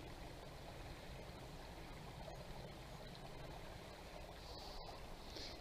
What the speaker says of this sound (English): And you can hear the trickle of the water.